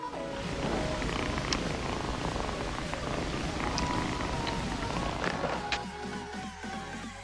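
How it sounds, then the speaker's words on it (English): A kitten's steady, soft purr rumbles continuously under a noisy background, close to the listener with no pauses. "we can hear its purring through Marlon Brando's microphone."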